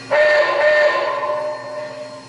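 Forward signal whistle of an MTH RailKing Cab Forward model train, one loud sustained steam-style chord that starts sharply and slowly fades over about two seconds.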